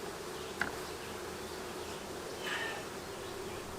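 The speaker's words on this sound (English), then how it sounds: "What I'm going to do is shake off most of the bees on this frame" Honeybees buzz in a soft, steady hum while being shaken off a brood frame at an open hive, with a sharp knock early on.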